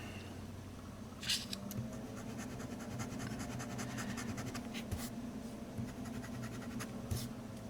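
A Hongdian N7 fountain pen with a long-blade architect nib scratches steadily across paper, a faint close rasp with a few louder strokes over a low background hum.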